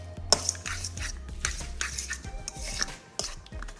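A utensil clinks and scrapes against a bowl, mixing beaten egg with squeezed mayonnaise for an Indian breakfast egg sandwich, with irregular close taps and stirring strokes throughout.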